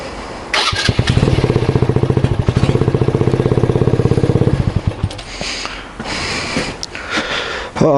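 A motorcycle engine starts from cold and settles into a low, rhythmic pulsing idle for a few seconds before cutting out, leaving background noise.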